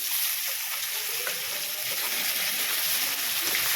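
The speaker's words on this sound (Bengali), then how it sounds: "পেঁয়াজটাকে দিয়ে প্রথমে ওগুলো ভালো করে একটু ভেজে নিচ্ছি" Chopped onions frying in a small amount of oil for a goat head and offcut curry make a steady, close hiss with faint crackles running unbroken throughout.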